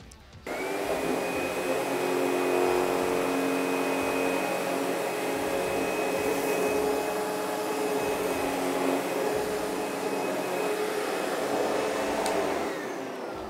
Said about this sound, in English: I want to show you how it agitates carpeting.